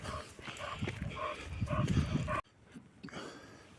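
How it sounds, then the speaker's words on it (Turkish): Several dogs, including a street dog, bark repeatedly over outdoor background noise on a mountain outing, moderately near, followed by a quieter stretch with faint barking further off. "Orada bir tane sokak köpeği."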